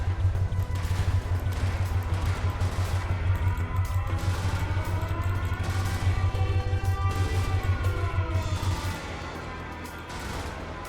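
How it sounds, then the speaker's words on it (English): Burst-fire weapon shooting in the mech combat game Brigador: rapid, loud, rhythmic volleys repeating over a heavy low rumble, stopping near the end and leaving softer background noise. "That's our burst fire weapon."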